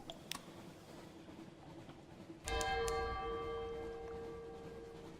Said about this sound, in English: Distant bells.